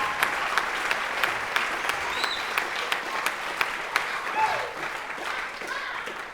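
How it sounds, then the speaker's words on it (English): An audience at a live evening show claps steadily, a sustained wash of applause with occasional sharper claps and faint whoops over several seconds, somewhat distant. "give yourselves a round of applause for being here tonight"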